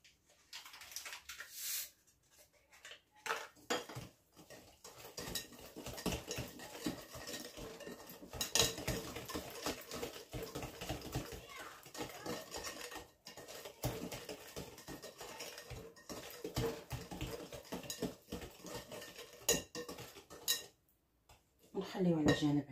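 Brownie batter with sugar is mixed in a bowl, a spoon or whisk scraping and clinking steadily against the dish in close, busy rhythm with faint talk in the background.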